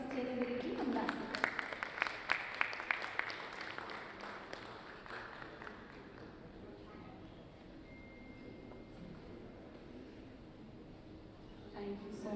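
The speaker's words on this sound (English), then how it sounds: "Huge round of applause from the audience." Audience at a live sustainability event bursts into a loud round of applause that gradually thins into scattered clapping, with voices murmuring underneath.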